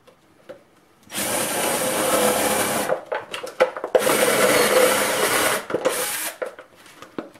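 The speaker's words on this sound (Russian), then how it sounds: "И сверлим отверстие." A power drill grinds through a plastic bottle in two long, loud bursts, with short stuttering spurts of drilling between and after them.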